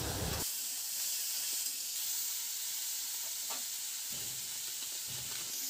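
Tomatoes cooking with salt and turmeric for masala vegetable oats, a soft continuous sizzle and hiss from the pan with a few faint stirring scrapes, fairly quiet and without talk.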